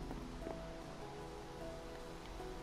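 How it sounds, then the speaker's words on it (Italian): Steady rain falls in Minecraft, a soft continuous patter that stays even and moderately close, with a faint tonal hum underneath and no talking. "C'è la pioggia."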